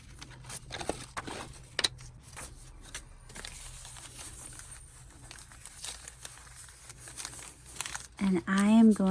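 Brown packing paper crumpled and crinkled by hand for a journal page, close-up and intermittent, with soft rustles and sharper crackles and a brief tearing rasp near the end.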